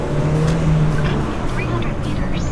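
Engine of a broken-down car on a long road trip home from Romania running steadily with a continuous low hum throughout, with occasional faint higher whines and voices faintly present over it.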